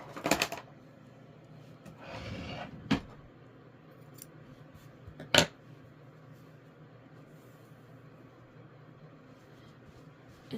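Scissors snipping yarn while finishing a crocheted granny square, a few sharp isolated snips and a short rustling scrape spaced across a quiet room, with no talking.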